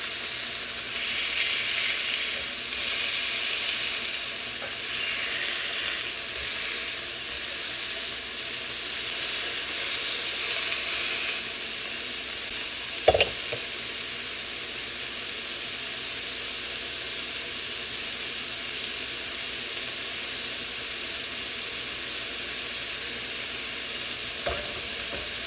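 Chicken pieces for lemon chicken sear in a hot pan, pressed down as they cook, giving a loud continuous hiss and sizzle with one sharp knock partway through and another near the end, no voices.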